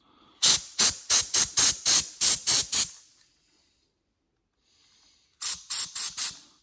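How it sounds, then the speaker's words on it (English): Canned air duster blasting into the carburetor passages of a Honda CRF50 dirt bike: a run of eight sharp, loud hissing spray bursts in quick rhythm, a faint hiss after a pause, then three more short blasts. "I didn't bring my air compressor, but I got some air in a can here"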